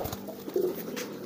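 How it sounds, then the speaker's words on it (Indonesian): A racing pigeon gives a single soft, low coo close by, brief and faint against quiet background noise. "Ini merpati balap."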